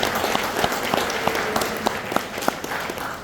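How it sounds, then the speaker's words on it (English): Steady applause at a college ribbon-cutting ceremony, a crowd of hands clapping evenly with a few sharper claps popping out, moderately loud and continuous. "Give them a round of applause as well."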